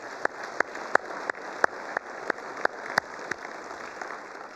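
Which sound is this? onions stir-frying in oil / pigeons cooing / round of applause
round of applause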